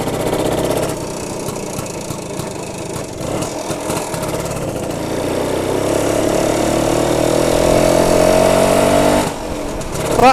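A BSA Bantam 175 two-stroke motorcycle engine runs steadily through a blustery ride near Lowestoft, its droning note rising gradually in pitch and loudness as it pulls along, with wind buffeting throughout.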